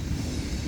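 BNSF mixed freight train with hoppers passing at Central Avenue, a steady heavy low rumble of rolling railcars, close and continuous with no breaks or voices.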